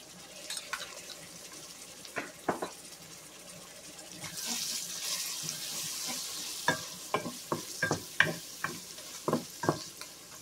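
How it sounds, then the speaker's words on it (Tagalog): Garlic sautéing in a frying pan for Bisaya-style pork afritada with pork liver, a steady sizzle with a burst of hiss midway and repeated sharp scraping clicks from stirring, close and loud with no talking. "Lagyan natin siya ng garlic kasi medyo brown na siya."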